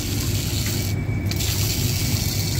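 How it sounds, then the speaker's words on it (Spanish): Water pours into a commercial pasta cooker as it starts filling, a steady, loud rushing wash that continues unbroken throughout, with no talking. "con este botón empezamos a llenar de agua"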